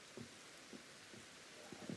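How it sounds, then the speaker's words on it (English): Rain falls in the Cobalt Coastlands of Pokémon Legends: Arceus as a faint, steady hiss, with a few soft low thuds scattered through it. "Ah, rainy weather."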